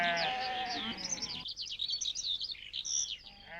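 A Gaddi herders' sheep flock in the Himalayan foothills gives a loud, close bleat that breaks off partway through, followed by bright bird chirps and another short bleat near the end.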